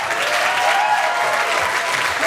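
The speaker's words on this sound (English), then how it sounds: "Round of applause for your host" Steady, loud clapping from an audience at a burlesque show as the host is introduced, a dense, continuous wash of applause without breaks.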